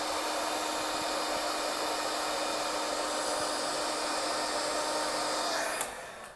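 A hair dryer blows steadily on a watercolor painting, a loud, close, constant whirring roar that holds for several seconds and then cuts off abruptly near the end, with no talking.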